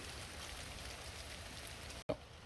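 Light rain begins falling outdoors near a utility trailer, a steady soft hiss of drops on surfaces with a brief cut in the sound near the end.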